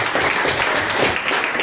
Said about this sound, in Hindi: जोरदार तालियां जवान सर के लिए